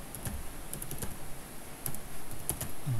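Fingers tap out a few scattered keystrokes on a computer keyboard at close range, light clicks in an irregular rhythm against a quiet room.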